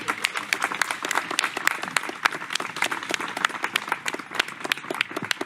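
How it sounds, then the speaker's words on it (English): Crowd at a boardwalk and marina ribbon cutting in Lake Lure giving a round of applause to Dean, a brisk burst of many hands clapping, moderately near and fairly soft, steady for several seconds. "please join with me today in giving a round of applause to Dean and honoring him for his work at Town of Lake Lure."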